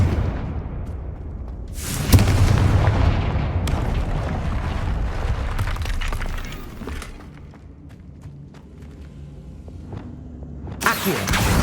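Loud blasts from the Confringo fire spell in Hogwarts Legacy, a heavy booming explosion followed by a long rumbling roll-off, then another sharp burst near the end, with no speech.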